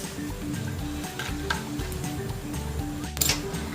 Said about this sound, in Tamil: 2 டேபிள்ஸ்பூன் ஆயில் ஹீட் பண்ணி வச்சிருக்கேன். இப்போ இது கூட நம்ம மசாலாலாம் சேர்த்துடலாம்.